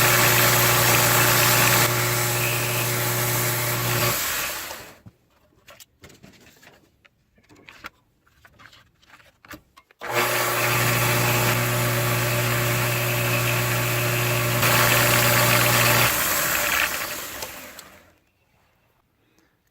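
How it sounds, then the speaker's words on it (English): A golf iron being sanded with 100 grit sandpaper, likely on a powered sander, running in two long, loud, steady whirring passes separated by a quieter pause with scattered clatter. "I like to just take it down on about a 100 grit until I get close"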